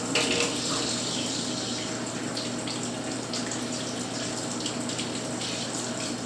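Tap water runs steadily over a chicken hatching egg to rinse off yolk and droppings, a continuous close splashing rush with no talk.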